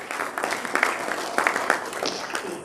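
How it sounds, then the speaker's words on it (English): Audience applause at a formal launch event of an entrepreneurship scheme, steady scattered clapping from a moderate crowd, mid-distance and fairly even throughout. "Ladies and gentlemen, a round of applause for Mr."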